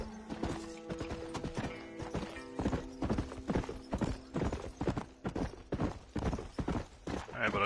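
Horse hooves clip-clop in a steady, rapid rhythm in the Xbox 360 game Red Dead Redemption, close and continuous, with faint tonal game sounds running underneath.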